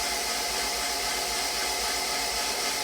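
An all-wheel-drive Honda CRX engine cranks over at its first start-up as oil pressure builds. The result is a steady, close whirring drone with a low pulsing throb and no voices.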